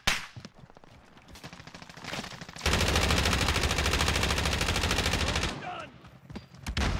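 An M13 assault rifle fires in Call of Duty Warzone: a few scattered shots, then a sustained loud burst of rapid automatic fire lasting about three seconds, followed by more sporadic shots.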